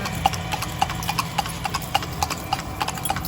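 Horse hooves clip-clop steadily on pavement as the horse pulls a kalesa carriage through historic Intramuros, Manila, with regular sharp strikes over constant street background noise.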